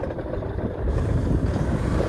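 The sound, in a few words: motorcycle riding on rough village road, Saint Martin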